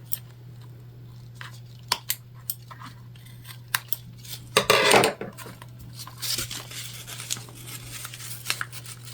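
Scissors trim fabric for a small cross-body bag, with scattered sharp snips spread through the clip and a louder burst of cutting near the middle, over a steady low hum.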